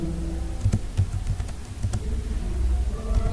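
Computer keyboard keys clatter in quick, uneven bursts while HTML text is entered, fairly close and steady, with no voice over them.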